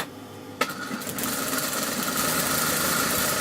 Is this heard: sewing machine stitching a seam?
yes